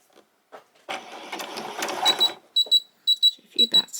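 A domestic sewing machine running a zigzag stitch along a seam of a white summer top, with a broadband motor-and-needle rattle in a long continuous run, followed by several short separate bursts with faint clicks between them.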